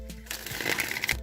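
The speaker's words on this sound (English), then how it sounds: "I'm going to go ahead and just shuffle the Rider-Waite deck" A Rider-Waite tarot deck being shuffled by hand, giving a steady, close papery riffle of cards that lasts about a second, with no talking over it.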